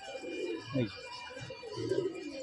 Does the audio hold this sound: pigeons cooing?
yes